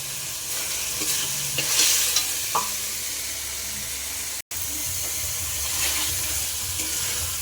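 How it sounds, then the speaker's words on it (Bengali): Chicken masala frying and being stirred in a pan, a loud continuous hiss of sizzling with scraping strokes throughout and a brief dropout midway, close up and with no talking. "চিকেনের মশলাটা কষা হচ্ছে"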